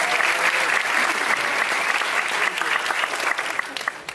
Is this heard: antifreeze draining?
no